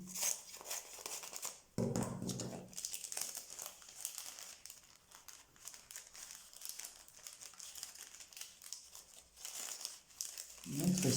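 Paper packaging being cut open by hand, with crinkling and tearing paper and handling noises running throughout, loud and close, while people talk over it.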